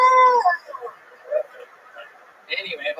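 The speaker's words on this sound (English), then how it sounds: "You know the time is up and hear the sound of a kitten." A kitten meow plays as a sound effect marking that a timed turn is up: a clear high-pitched mew comes first, then a quieter stretch of faint mews and murmurs, and a second brighter cry near the end.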